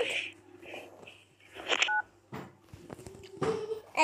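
A telephone keypad beeps through several separate dialing tones in an irregular sequence, close and fairly clear, with faint background sounds between presses.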